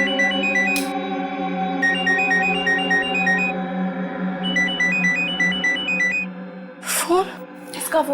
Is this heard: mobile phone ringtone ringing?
yes